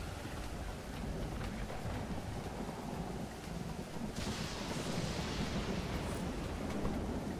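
Heavy rain pours steadily over an outdoor garden, with low rumbling thunder rolling underneath; the downpour swells louder and brighter about halfway through and stays dense to the end, no voices.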